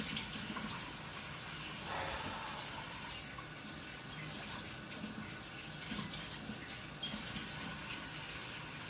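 Water runs steadily from a tap, a constant soft hiss and splash with no pauses, fairly faint and alone.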